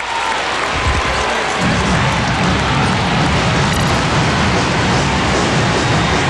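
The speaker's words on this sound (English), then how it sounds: "Escalona gets a round of applause from his teammates and the Blue Babel Battalion as well." Loud, continuous crowd noise and applause from teammates and fans at a UAAP finals basketball game, a dense roaring wash filling the arena without letup.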